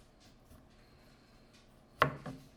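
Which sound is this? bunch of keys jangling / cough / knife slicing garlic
knife slicing garlic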